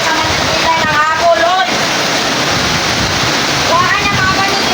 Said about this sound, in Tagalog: Tsaka bigla na lang lumakas talaga yung ulan.